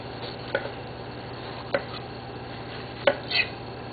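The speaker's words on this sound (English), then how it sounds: "just cut down the sides of your pepper" A knife chops through a bell pepper on a cutting board while fajitas are prepared, giving about four sharp, separate thunks spaced irregularly over a quiet, steady background hum.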